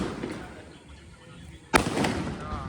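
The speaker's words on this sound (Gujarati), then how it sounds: "હવામાં ફટાકીયા ફોડ્યો" A firecracker goes off in the air during Dev Diwali celebrations outdoors, one sharp loud bang after a stretch of background murmur, followed by crackling and lingering noise.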